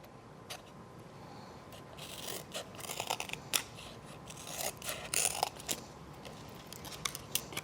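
Scissors snip through paper or card pieces for a model hill, a steady series of close, crisp cuts with rustling handling between them, no talking.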